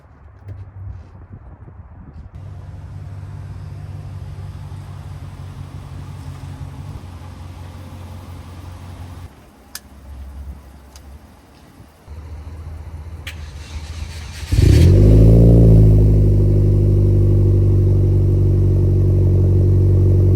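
A Hyundai Genesis Coupe 2.0T idles with a low, steady rumble, punctuated by a few clicks and clatters. Around fifteen seconds in, the engine revs up with a loud, rising surge as the car pulls away and keeps driving.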